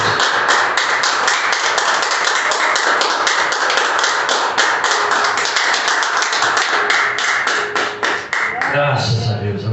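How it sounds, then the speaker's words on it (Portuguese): A congregation claps in a church service, a sustained, dense round of applause with quick rhythmic hand claps that tapers near the end as a voice begins speaking. "Aplausos, Senhor."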